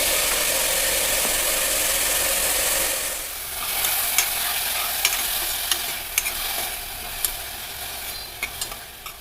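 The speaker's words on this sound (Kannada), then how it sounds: "ಇದು ಟೊಮೆಟೊ ಚೆನ್ನಾಗಿ ಮೆತ್ತಗೆ ಬೇಯೋವರೆಗೂ ಸ್ವಲ್ಪ ಹುರಿಬೇಕಾಗುತ್ತೆ" Sambar onions and tomato fry in a pan with a loud steady sizzle, then a spoon scrapes and stirs with repeated clacks against the metal, close and without talk.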